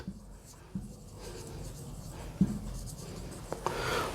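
Pen writing accounting entries on paper during a company-accounts lesson on share capital, soft scratchy strokes with a few small taps, close and quiet under faint room noise.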